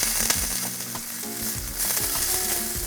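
Beef steak pieces sear in a hot oiled pan, a steady crackling sizzle with scattered pops running the whole time, close and fairly loud, with no voices.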